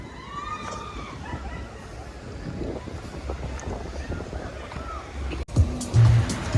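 Wind and ocean surf at Anjuna beach in Goa, a steady broadband wash with gusts buffeting the microphone, boat traffic nearby, and a few louder thumps near the end.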